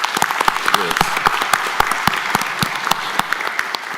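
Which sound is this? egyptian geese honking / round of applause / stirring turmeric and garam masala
round of applause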